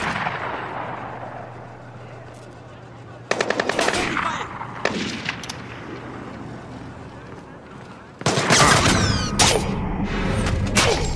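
Cover-fire machine gun bursts in the video game Splinter Cell Blacklist, loud rapid rattling volleys breaking in after a quieter windy stretch, then a longer sustained burst, with voices talking amid the shooting.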